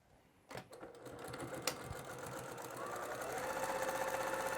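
A sewing machine stitches and back stitches the casing of a patchwork drawstring bag, starting with a clunk and then running in a steady, rising mechanical whir that grows louder toward the end.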